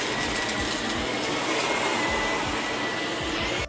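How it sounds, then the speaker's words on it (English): A household vacuum cleaner runs continuously at close range, a loud steady whine and roar with slight shifts as it moves, and no voices. "And now we're gonna vacuum."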